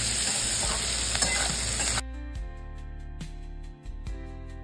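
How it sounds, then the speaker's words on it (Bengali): Sliced capsicum frying in a pan with turmeric and salt, a loud steady sizzle for about two seconds, then quieter crackling with a few sharp stirring scrapes and clicks of a utensil. "এবার একটু ভেজে নিই।"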